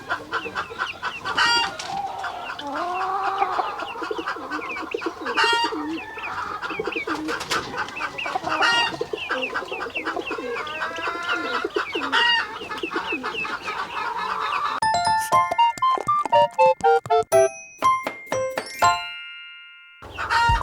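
A silkie rooster clucks and calls in low, rough bursts for most of the stretch, with no talk. Near the end, bright chiming notes take over.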